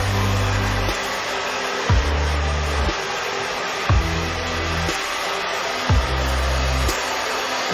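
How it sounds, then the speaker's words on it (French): A hair dryer runs steadily indoors for the whole stretch, a loud continuous whooshing hum that dips and shifts in pitch about once a second as it is moved around while drying hair. "je vais aller sécher mes cheveux."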